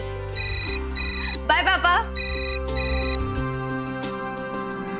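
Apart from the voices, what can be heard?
phone ringtone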